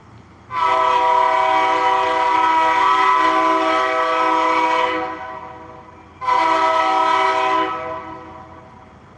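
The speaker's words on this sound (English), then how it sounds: "I hear the train back behind me." Train horn blasting loud and close beside a riverbank fishing spot, one long sustained blast followed by a second after a short gap, with the rumble of the passing train underneath.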